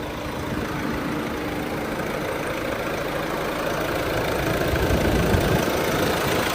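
A Renault Master van engine idles steadily with a low, even rumble and a faint mechanical whir from a spinning roller running underneath.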